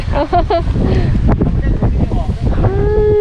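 Strong wind buffets the microphone outdoors at a year-end running event in Chanthaburi, Thailand, a loud, continuous low rumble that never lets up, with voices talking briefly over it.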